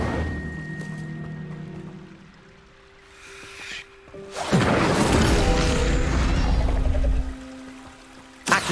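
Incendio fire spell cast in Hogwarts Legacy, a loud whooshing burst of flame that erupts after a quieter lull, roars for a few seconds, then fades out before a sharp final hit.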